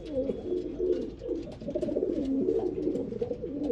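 Pigeons coo steadily in a large, king-size loft cage. The soft, overlapping low calls sound close and continuous, with no talk.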